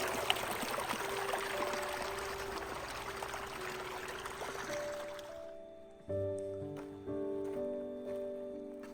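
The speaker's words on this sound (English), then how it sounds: "the sound of the creek flowing beside you makes the whole hike feel super relaxing" A creek flows beside a canyon hiking trail at Middle Fork in Zion among red sandstone walls, its steady rushing water filling the first six seconds before fading under brighter tonal sounds.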